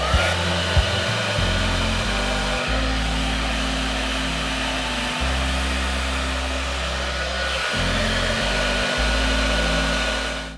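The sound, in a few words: hair dryer blowing with volume booster on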